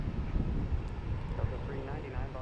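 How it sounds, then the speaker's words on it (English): A JetBlue jet airliner takes off at Logan Airport with a continuous low engine rumble, and a voice talks over it. "Get JetBlue taking off here."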